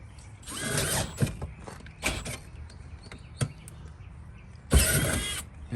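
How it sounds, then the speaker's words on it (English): A hand ratchet tightens a bolt for the seat of a 1982 K30 or 1985 F350 truck. Several close bursts of ratcheting clicks come in uneven spurts with short pauses between them. "It's getting a bolt for the front of the seat now."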